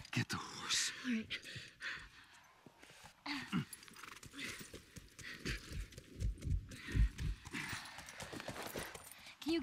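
Horse hooves clip-clop in The Last of Us, a quiet irregular patter of steps with soft whispered voices passing over and around them.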